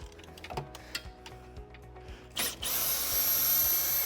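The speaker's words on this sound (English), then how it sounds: "you can use the Allen key supplied, otherwise just use a drill" A power drill removing bolts from a treadmill whirs in short bursts with ratcheting clicks between, then runs in a longer, louder continuous spin near the end.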